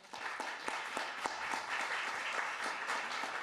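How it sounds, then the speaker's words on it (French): Steady applause from a conference audience, many hands clapping at once in a dense, even patter heard from some distance. "je vous demande de l'applaudir"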